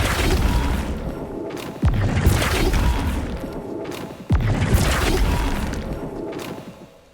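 The Flipendo spell is cast twice in the video game Hogwarts Legacy on Xbox Series X, each a sharp booming impact that falls into a long, loud, rumbling wash, with no talk over it.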